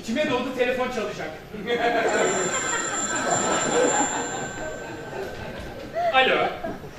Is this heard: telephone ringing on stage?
yes